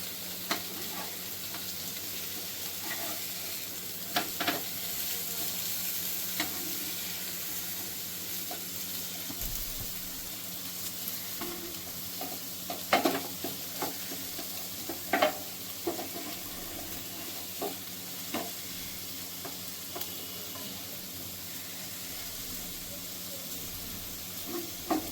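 Onion softening over a low flame in a pan: a steady, faint sizzle runs throughout, with occasional clinks and scrapes of a spoon against the pan.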